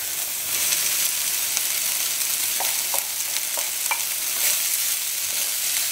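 Cooked rice is tipped into a hot pan for egg fried rice and stir-fried, a continuous close hiss and sizzle broken by scraping and clinking stirs, with no talking.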